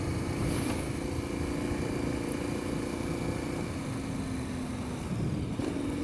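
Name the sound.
KTM 1090 Adventure R motorcycle riding off-road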